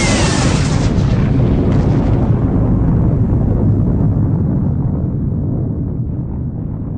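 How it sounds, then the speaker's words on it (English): A massive explosion's roar rolls in as a loud, broad rumbling blast that slowly fades and darkens over several seconds, with no voices. "the ear-deafening roar of the explosion reaches her"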